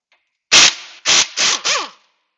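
An impact gun fitted with a 19 mm socket hammers the lower strut bolts on a 2005 Toyota Camry, firing four loud, close bursts, the first longest, with the last winding down in pitch.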